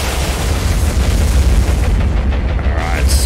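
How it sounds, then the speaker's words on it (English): Warship secondary explosions in the naval combat game War on the Sea: a loud, continuous rolling barrage of deep booms and blasts that blend into a sustained roar for several seconds. "secondary explosions. That's what I want to hear"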